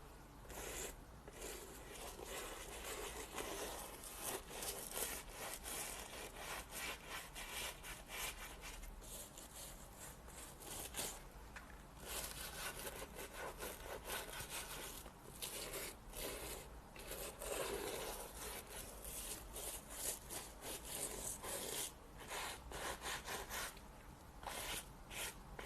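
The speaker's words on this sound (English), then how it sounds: "Next, we're going to take our bristly brush and give it a really gentle scrub" A bristle brush gently scrubs a boot during a shoe shine. The close, soft and quiet scratchy strokes repeat steadily for a long stretch without any talk.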